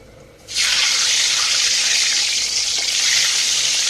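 Eggs dropped into preheated oil in a pan on a stove for Bengali egg korma: after a quiet start, a sudden loud burst of sizzling hiss that holds steady and strong to the end, with no talking.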